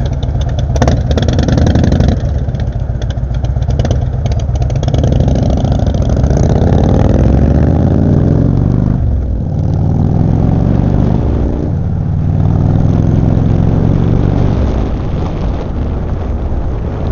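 A Harley-Davidson motorcycle engine idles close by with a loud, steady low rumble, its pitch swelling briefly a couple of times as the throttle is blipped, with no voices over it.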